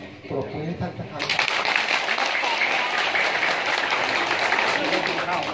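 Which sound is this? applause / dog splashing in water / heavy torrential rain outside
applause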